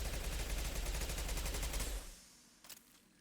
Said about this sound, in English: Technically, this thing fires in these like 3-round bursts, right?